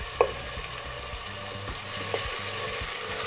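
Potato and eggplant cooking with tomatoes in a pan for achari aloo baingan sabzi, a continuous close sizzle with a few spoon clinks and stirring scrapes, no talk.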